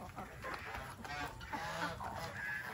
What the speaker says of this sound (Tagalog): Itong mga manok.